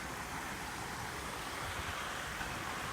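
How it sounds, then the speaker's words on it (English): Steady rushing water from small waterfalls on Burley Moorside, a continuous soft roar with no breaks, heard from a short distance. "beautiful little waterfalls that you can hear cascading in the background"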